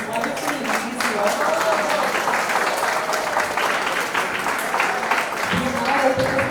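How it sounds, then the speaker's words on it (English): Audience applause after a women's panel forum on celebrating individuality, a steady dense wash of clapping throughout, with a faint voice and some tonal sound underneath. "please give a round of applause to these wonderful ladies here"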